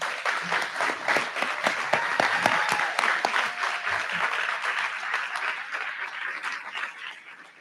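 Audience applause at a retirement tribute during a board of education awards evening, a dense, steady wash of many hands clapping that carries on for several seconds and slowly thins toward the end.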